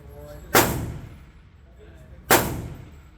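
Two sharp, loud Glock pistol shots are fired at a target about two seconds apart, each a sudden crack followed by a brief decaying ring.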